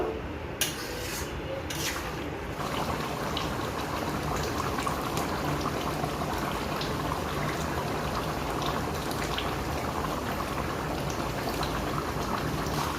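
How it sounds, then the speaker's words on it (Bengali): Nearly cooked chicken meat simmers in a little hot water in a pot, giving a steady, dense bubbling hiss throughout with a few faint taps at the start and no talking. "খুবই সামান্য জল দেব মাংস আমার প্রায় রান্না করা হয়ে গেছে সামান্য একটু ফুটিয়ে নিয়েই নামিয়ে নেব"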